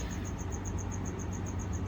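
Feeder crickets chirp inside a gecko enclosure, a steady rapid train of evenly spaced high chirps over a constant low background hum, with no voices.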